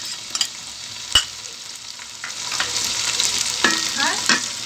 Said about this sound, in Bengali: পেঁয়াজটি একটু ভাজা ভাজা হয়ে গিয়েছে